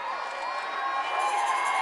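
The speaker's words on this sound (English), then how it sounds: "William and Kate, of course, one of the biggest cheers we have, that we've heard" A large outdoor crowd cheers and shouts continuously for William and Kate at a royal wedding, a dense roar with whoops that swells slightly toward the end.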